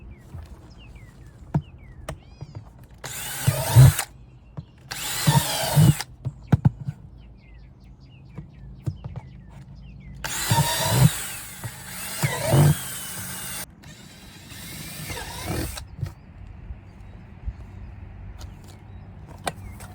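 Several separate bursts of harsh drilling into a plant pot for drainage holes, each a few seconds long, loud and close, with quiet gaps between them and faint outdoor background.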